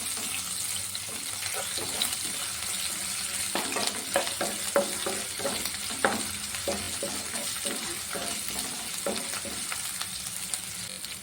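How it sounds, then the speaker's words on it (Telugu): Ginger garlic paste fries in a hot pan with a steady, loud sizzle and crackle, broken by occasional stirring scrapes, close up and with no talking. "ఇందులో ఒక స్పూన్ అల్లం వెల్లుల్లి పేస్ట్ వేసుకుంటున్నాను"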